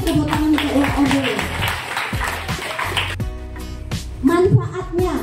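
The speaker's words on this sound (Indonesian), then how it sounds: "Beri tepuk tangan untuk OB." An audience of students at a school leadership training event at SMPN 1 Konawe Selatan claps for a student speaker, giving a bustle of applause mixed with talking voices.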